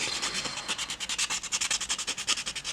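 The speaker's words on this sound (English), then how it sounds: "I'm just going to buff off the top coat because that's what the company recommends as well." An electric nail file buffs off a gel top coat, giving a close, steady rubbing whir that pulses in quick regular strokes with no talk.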